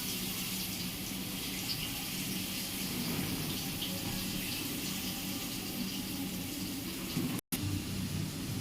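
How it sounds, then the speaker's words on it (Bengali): Potato slices fry in hot oil over a low flame, giving a steady, even sizzle with no talking and a brief dropout near the end. "তো দেখুন আলুটা ফ্রাই হয় ততক্ষণ।"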